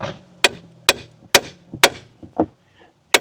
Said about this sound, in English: You can just bash on the knuckle, trying to force it down.